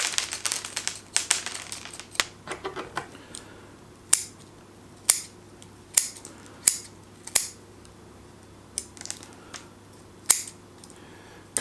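Shears snip through thick roots of a flowering bonsai during repotting, a series of sharp, crisp cuts at irregular intervals, close and clear over a faint steady background hum.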